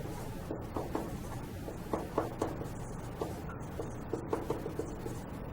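Marker or chalk strokes squeak and scratch across a board while an algebra equation is written, a steady run of short, close, moderately loud bursts with brief pauses and no talking.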